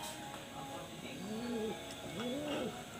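Pigeons in a loft coo in soft, rolling calls, two clear coos close by with faint chirps and a steady background murmur.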